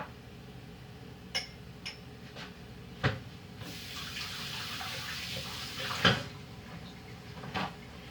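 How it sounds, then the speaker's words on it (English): A kitchen tap runs steadily for a few seconds while someone rinses their hands at the sink. Faint clinks and knocks sound before the water starts, and a sharper clatter follows partway through. "Wash my hands off"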